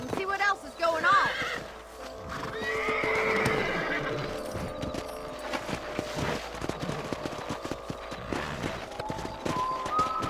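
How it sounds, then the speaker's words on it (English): Horses in the Red Dead Redemption video game whinny and neigh with hoofbeats clopping beneath, set over a busy game soundtrack and ambient noise, with a voice speaking partway through. "Let's get back on the horses"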